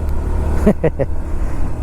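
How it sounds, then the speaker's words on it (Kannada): A lorry on a forest road rumbles steadily nearby at a low, even level, while a brief voiced sound breaks in over it near the middle. "ನೋಡಿ ಆ ಲಾರಿ ಬರುವ ಸ್ಟೈಲ್ ನೋಡಿ"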